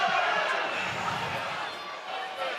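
Roar of a crowd at a Challenge Cup rugby league match between Catalans and Hull FC, a broad steady swell of far-off voices that stays loud throughout.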